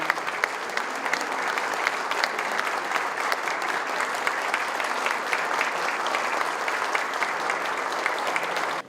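Sustained applause from an audience at a Korean firm's 30th-anniversary ceremony honoring a 30-plus-year long-service award recipient, steady dense clapping throughout without voices.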